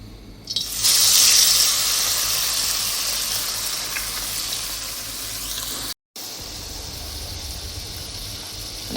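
Small kachki and chapila fish frying in a well-filled kadai, a loud, steady hiss of hot oil that starts abruptly, eases slightly over time and breaks off briefly before resuming lower.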